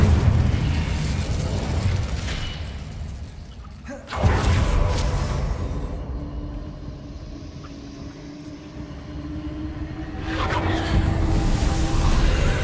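Spell blasts in the Hogwarts Legacy video game, including Confringo and Incendio, land as two heavy booming explosions. Each boom is followed by a rumbling, hissing tail, and there is no talk.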